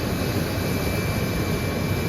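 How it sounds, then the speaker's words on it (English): A big old J57 turbojet on an F-100F Super Sabre, heard on the ground before taxi, roars in a loud, steady broadband rush with a thin high whine held throughout. "this is an old J57 turbojet engine that's pretty big for the time"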